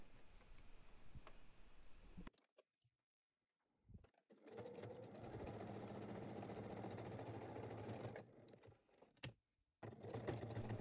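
A home sewing machine stitching heavy canvas for a crossbody bag, with a steady, laboring mechanical whir in two long runs separated by brief pauses, heard close with no talking.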